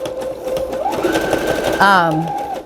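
Sewing machine stitching through a stack of junk journal pages, a short run of rapid, even mechanical stitching heard close, with someone talking over it throughout.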